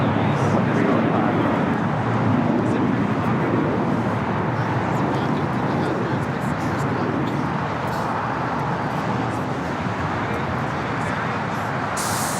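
A JetBlue Airways airliner at LAX, Flight 188 bound for Boston, gives a steady, loud jet roar with broad rushing noise throughout, while faint radio chatter runs underneath.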